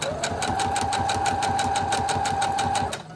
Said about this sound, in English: feed them into the machine, so you haven't had to stop and start and cut your thread